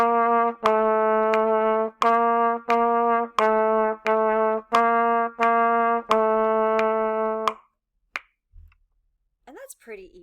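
Trumpet playing line 52B notes, each note started with a crisp tongued attack, about a dozen evenly spaced loud sustained notes in a steady rhythm, followed by a short pause and brief talk.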